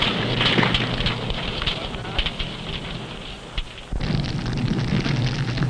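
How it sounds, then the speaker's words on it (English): An explosive detonates amid fire under close confinement and intense heat, a steady loud roaring crackle and rumble with scattered pops, briefly dipping before surging back. "Sometimes the explosive detonates because of close confinement and intense heat."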